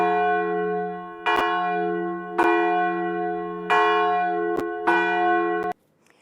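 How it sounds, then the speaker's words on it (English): A large church bell at Holy Trinity Wealdstone tolls five times at slow, slightly uneven intervals, each strike clear and ringing with a long sustained hum that fades before the next, then the sound is cut off abruptly. "bell is big, and it makes a loud enough sound for everyone in the area to hear."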